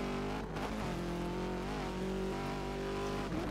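A rally car in Colin McRae Dirt 2 holds a steady, loud engine note through a corner, with the pitch shifting as the handbrake pulls it into a drift and a faint tire squeal underneath.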